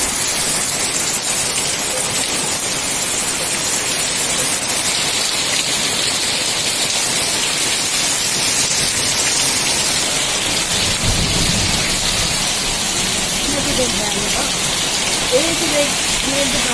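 Steady heavy rain falls on surfaces with a thunderstorm rumbling deep in the background, a constant hiss that stays level throughout. A low roll of thunder swells near the middle.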